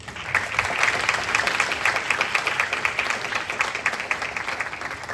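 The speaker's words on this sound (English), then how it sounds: "Can we give, in advance of today, our presenters, our panelists, a warm round of applause." Steady, dense applause from a forum audience for a panel of presenters, a continuous wash of many hands clapping at even loudness throughout, no voices standing out.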